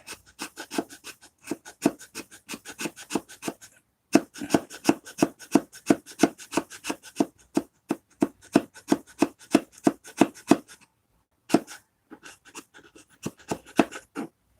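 A stain-soaked sponge rubs back and forth across a wooden bathroom cabinet, catching and dragging on the wood in quick, steady, rhythmic strokes with a few short pauses between runs.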